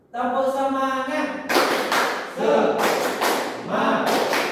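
Primary school students in a classroom do the 'tepuk semangat' clapping chant, with a voice leading first and then rhythmic bursts of group claps and chanting following in quick succession.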